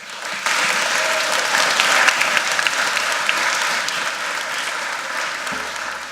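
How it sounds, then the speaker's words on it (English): An audience claps loudly and steadily in a chapel at the close of a service, a dense, sustained round of applause filling nearly the whole stretch before tapering near the end. "they deserve one more round of applause for the work they did"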